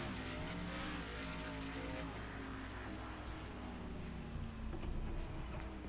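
A race car engine in a racing video game on the Chicagoland oval drones at high, steady revs, quite faint and continuous throughout, with no talking over it.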